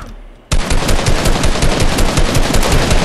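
Rapid automatic gunfire in Fortnite Chapter 2 bursts in abruptly after a brief lull and continues as a loud, dense, rattling stream of shots for the rest of the moment.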